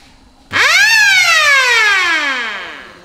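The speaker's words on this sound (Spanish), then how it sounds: "Y luego otro tipo de rotativo sirena." A rotating beacon siren from an emergency services vehicle, such as an ambulance, starts suddenly and sweeps up to a loud, bright wail, then slowly slides down in pitch as it winds off, heard alone.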